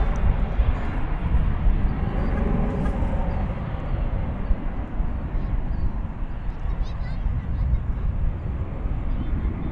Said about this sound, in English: There goes a plane. It's a Embraer 175.